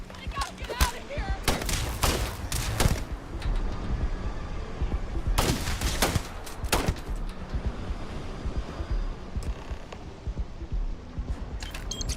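Gunfire from the video game Starfield, bursts of sharp shots and rapid volleys in clusters, loud and close, with quieter combat noise between them.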